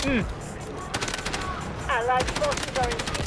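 Rapid gunfire in the shooter game Delta Force crackles in quick bursts of sharp, close shots, and someone talks excitedly over the firing.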